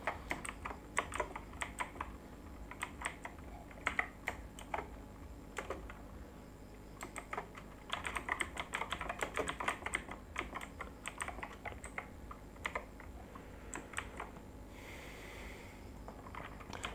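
Someone types a script on a computer keyboard while setting up TypeScript and ts-node-dev, with bursts of close, rapid key clicks separated by short pauses.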